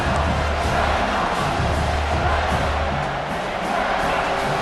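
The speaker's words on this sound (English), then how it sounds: "this crowd is bringing down the house" Stadium crowd roaring in EA Sports College Football 26 during a South Carolina vs Auburn game, a dense, steady wall of cheering and shouting that stays loud and sustained throughout with no pauses.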